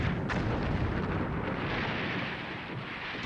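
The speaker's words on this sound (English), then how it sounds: "Bombed and shelled daily" Continuous rumbling barrage of artillery shelling and explosions from a wartime siege of a city, a loud, dense roar of overlapping low booms that stays steady with no clear gaps between blasts.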